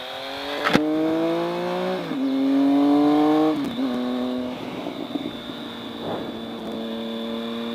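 A 2012 Triumph Speed Triple motorcycle under way, its engine revving up through several rising pulls with brief drops at gear changes, loud and close over wind rush, with no talking.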